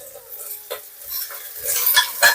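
Chopped garlic sizzles in olive oil in a kadai while a utensil stirs and scrapes against the pan in a few short strokes, close and fairly quiet.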